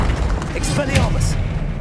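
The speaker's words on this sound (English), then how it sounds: "Expelliarmus" An Expelliarmus spell cast in Hogwarts Legacy, heard as a heavy, booming magical impact with a brief bright crackle, loud and close, while a voice talks over it.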